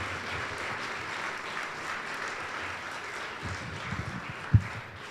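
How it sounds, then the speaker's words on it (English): Dinner guests at the 2018 Crystal Eagle Awards applaud a group of young honorees, a moderate, even wash of crowd clapping that holds steady, with a single sharper, louder clap near the end. "one more round of applause for those wonderful young individuals"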